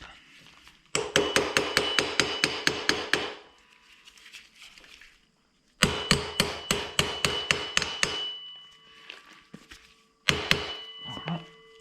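Hammer striking screws on a Peugeot 103 moped, three close bursts of rapid, evenly spaced metallic blows with short gaps, loud and ringing with no talk.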